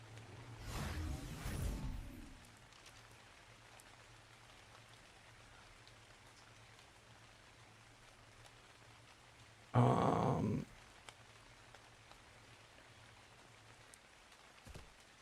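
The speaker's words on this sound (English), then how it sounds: "It's raining now." Rain falls steadily in Ark: Survival Ascended, a soft continuous patter that swells at the start and is broken midway by a short, loud burst of another sound.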